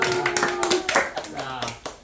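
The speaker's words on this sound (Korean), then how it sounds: "여러분 다 같이 자 우리 정수 어머니께 큰 박수 부탁드립니다." A group claps together at a Korean family program event, a fairly even run of hand claps lasting about two seconds, with speech and some tonal voice sounds mixed in.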